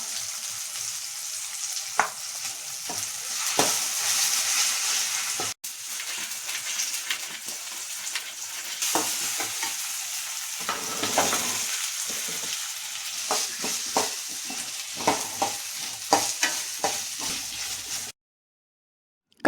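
Ginger garlic paste added to well-fried onions sizzles steadily in a hot pan, a close, continuous frying hiss broken by scraping stirs and clinks, with no talk and a sudden cut to silence near the end.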